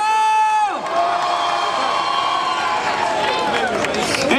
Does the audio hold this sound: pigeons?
no